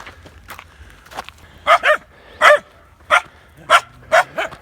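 Dogs bark outdoors along a trekking path, sending out sharp barks in pairs and singles with short gaps between them. Softer yips and faint rustling footsteps fill the quieter moments.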